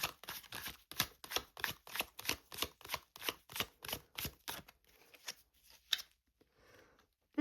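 Tarot cards are riffled and shuffled in a quick series of crisp, papery bursts, then taper off into a few soft flicks and near silence.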